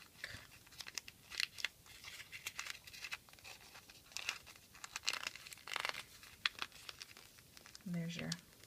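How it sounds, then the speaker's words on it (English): Sheet of paper being folded and tucked into a small passed note, with soft crinkling and scraping in short bursts, quiet and close. "you fold that in and tuck"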